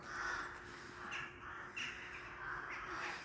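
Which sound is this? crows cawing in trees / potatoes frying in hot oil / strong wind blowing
crows cawing in trees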